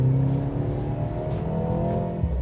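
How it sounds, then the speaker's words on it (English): Mercedes-AMG C 43 four-cylinder engine revving with its exhaust switched to the loud setting, a steady, strong, close drone with rising harmonic tones and no talking. "this little switch on the infotainment, which lets you make the exhaust a little louder"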